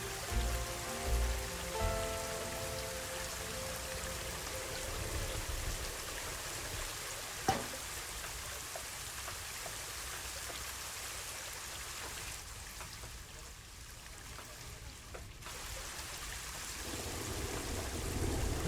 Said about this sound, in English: I'm gonna add a bit more water flow here.